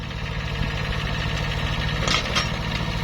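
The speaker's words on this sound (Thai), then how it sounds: "ตัวนี้จะเป็นเครื่องยนต์เร6 0 0 ครับ สองสูบของคูบุตรา" A Kubota two-cylinder diesel engine on a Japanese-imported farm machine runs at a steady idle nearby, with an even, throbbing chug and a few faint metallic ticks.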